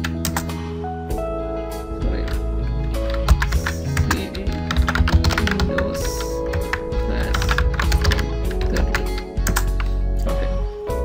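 Rapid close typing on a computer keyboard, bursts of crisp key clicks over a steady low hum, with no talk.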